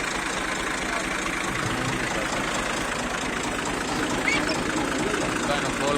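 A 2002 Massey Ferguson MF 240 tractor engine idles steadily as a low, constant rumble at moderate distance, with no change in rhythm throughout.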